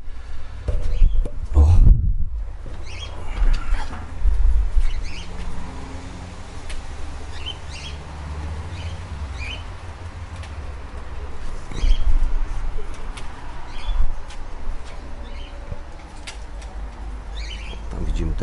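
Racing pigeons return to the loft during a training flight at Kosakowo, with brief wing flaps and scattered chirps and coos over steady outdoor noise, while someone talks intermittently nearby.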